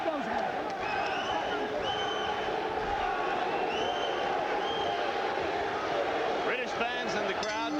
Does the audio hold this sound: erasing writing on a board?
no